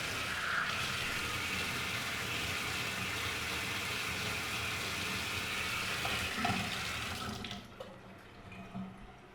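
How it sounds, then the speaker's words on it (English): Water runs steadily from a sink tap in a garage fish room, a continuous hiss of flow that cuts off near the end, leaving quieter background noise. "And the water flow is pretty decent."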